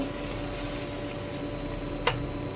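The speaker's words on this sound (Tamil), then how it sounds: "எல்லாம் ஆட் பண்ணிவிட்டு நல்லா கிளறி விட்டுக்கோங்க இந்த பாஸ்தாவை" Pasta with tomato ketchup, chili powder and pepper being stirred in a pan, a steady close sizzle and soft scraping, with one sharp clink near the end and no talking.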